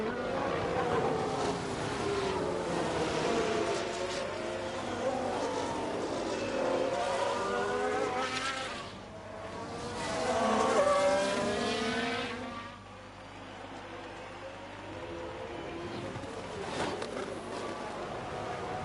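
A Ferrari F1 race car engine in F1 Manager 22 at Spa, a high-pitched whining engine note that rises and falls as the car accelerates and shifts, heard continuously over a broad rushing noise.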